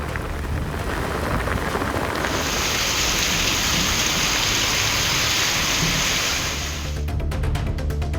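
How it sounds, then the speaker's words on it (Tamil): Heavy rain driven by strong winds during a sudden downpour: a dense, loud, continuous hiss of rain and gusts that holds steady from start to finish, with a low rumble underneath. "சூறைக்காற்றுடன் கூடிய பலத்த மழை பெய்தது"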